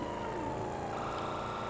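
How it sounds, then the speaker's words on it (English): Police sirens in GTA 5 wail steadily and faintly beneath a continuous rumbling drone of engine and road noise during a chase. "because there's sirens, so I can hear the whole time that there's a hunter still on my arse"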